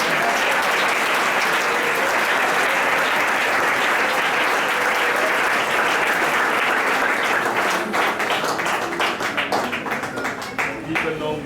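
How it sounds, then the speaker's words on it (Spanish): A church congregation applauds during a Sunday school sermon, a dense, steady wash of clapping that fills the space and then thins out into scattered claps near the end. "Démosle un aplauso al Señor."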